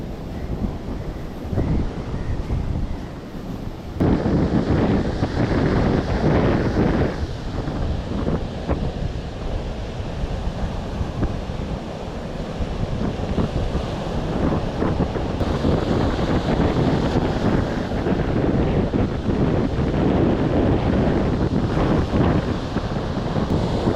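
Rough sea waves crashing on a shore in rainy weather, a loud, continuous roar of surf mixed with gusty wind buffeting the microphone, with no voices.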